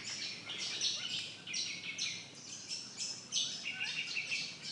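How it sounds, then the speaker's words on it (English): Several birds chirp and tweet in the East Point mangroves near Darwin, Northern Territory, with overlapping high, bright calls repeating steadily at moderate distance over a soft background hiss. "It's packed with noisy, though mostly unseen, birds."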